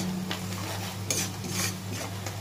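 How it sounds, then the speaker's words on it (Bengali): Maggi masala spice being fried with onions in a pan, giving a steady low sizzle with a few soft scrapes and stirring clatters of a utensil against the pan. "মশলাটা ভেজে নেবো পেঁয়াজের সঙ্গে"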